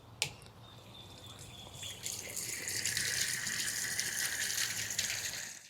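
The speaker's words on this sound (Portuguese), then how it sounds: "o biofertilizante está pronto e você pode utilizar ele descarregando ele nessa torneira." Liquid biofertilizer drains from a tap on a farm tank, starting with a sharp knock and then building into a steady gushing, splashing flow that gets a little louder and continues for several seconds, with no voices.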